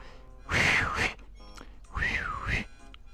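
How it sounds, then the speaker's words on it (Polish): A man whistles two breathy, airy notes about a second apart, close by indoors, with slightly strained, uneven pitch. "A się zmęczyłem gwizdaniem i źle gwizdze."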